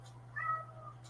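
A house cat gives a single short meow close by, over a steady low hum, followed by quiet.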